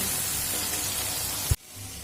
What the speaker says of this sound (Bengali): পরিমাণ মতো লবণ আর পরিমাণ মতো হলুদ দিয়ে আলুটা মিডিয়াম ফ্লেম করে ভাজা করে নেব